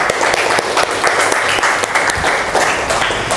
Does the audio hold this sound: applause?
yes